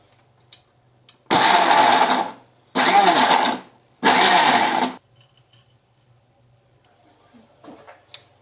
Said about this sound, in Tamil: மிக்சியில் ரெண்டு தக்காளி கொஞ்சம் பெரிய தக்காளி ரெண்டு இது என்ன பண்ணணும்னா பல்ஸ் மோடில் போட்டு கொஞ்சம் குற குறன்னு அரைச்சிக்கலாம்